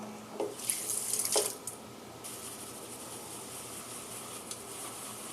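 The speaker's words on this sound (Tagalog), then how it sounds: "A little bit more water" Water from a tap runs in two short bursts into a sink while shaving lather is worked up with a 1971 Feather Professional razor nearby, followed by low steady background hiss.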